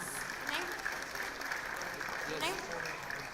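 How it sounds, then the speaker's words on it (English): A school annual day audience applauds students and teachers on stage, a soft steady patter of clapping with faint voices mixed in, quiet and somewhat distant. "Let's give them a huge, warm round of applause."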